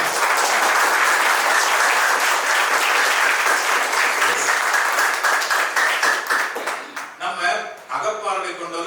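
An audience at a Tamil talk breaks into loud, dense applause that holds steady for several seconds, then thins into scattered claps and fades as a voice resumes speaking.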